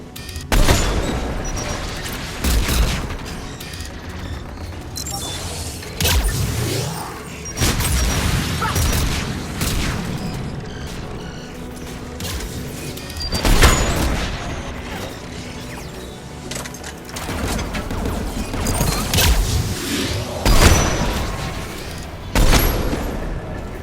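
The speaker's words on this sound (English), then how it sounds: "AA guns ahead." Anti-aircraft guns fire in Mass Effect 3 on Rannoch: repeated heavy booming bursts and crashing blasts recur every few seconds over a dense mechanical battle rumble, with no talk.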